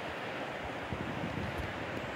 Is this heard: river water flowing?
yes